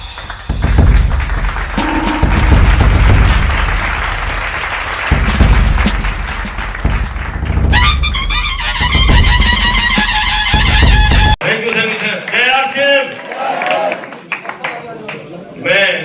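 Applause from a seminar audience welcoming a retired sessions judge to the stage, loud bursts of clapping mixed with someone speaking over a microphone, then music and voices.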